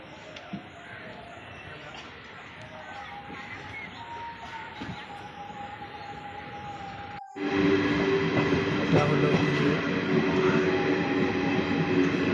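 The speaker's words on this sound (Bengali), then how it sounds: "ট্রেনটা ছেড়ে দিল।" A train travelling from Rajasthan to Sealdah rumbles along steadily, then jumps suddenly louder with a roaring wheel-on-rail clatter and whine, heard from on board, with brief speech.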